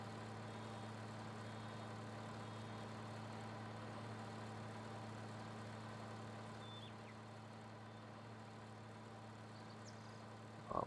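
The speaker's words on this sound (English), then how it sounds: "This little tractor here is such a workhorse." Small tractor engine idling in a field in a farming game, a steady low hum that holds evenly throughout with no talk over it.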